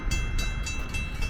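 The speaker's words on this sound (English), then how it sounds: "I'm in Midlothian making videos of METRA Trains" A METRA commuter train passes in Midlothian with a steady rumble and high metallic ringing, punctuated by a regular series of clacks over the rail joints, close and fairly loud.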